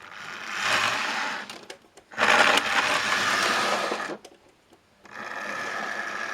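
A model railway locomotive's electric motor whirs loudly in sustained high-pitched bursts, cutting out abruptly as it locks up, then restarting after short silent gaps, three runs in all.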